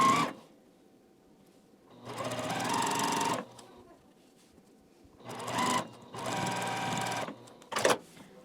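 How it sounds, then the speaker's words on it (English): An electric sewing machine stitches a long fabric seam in several rapid whirring bursts of one to two seconds, separated by quiet pauses with a faint hum. "I'll take this all to my machine and sew all the way down this without breaking my thread in the middle"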